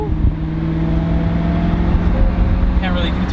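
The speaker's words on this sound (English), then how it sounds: "hearing that Italian V8" A Maserati GranTurismo's Italian V8 sounds from close by on Beverly Hills streets as a loud, throbbing engine note with audible tonal harmonics that shift as it revs. A voice talks over it.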